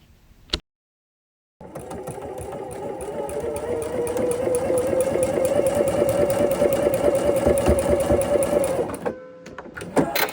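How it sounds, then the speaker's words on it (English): A sewing machine stitches down both sides of sawtooth quilt block seams for an embroidered sweatshirt, running steadily and close for about seven seconds after a brief pause, with a rapid even needle rhythm before stopping. "And I'm going to sew down both sides of those."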